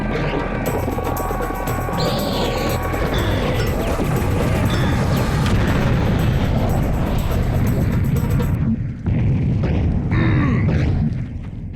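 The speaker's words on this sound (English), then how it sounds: "there's the serious bomb. This is a clear-the-screen of enemies weapon." The serious bomb in the shooter Serious Sam: The Second Encounter goes off in a huge, loud, sustained blast, a deep booming roar with crashing debris that fills the screen-clearing moment, then dies away into lingering rumble.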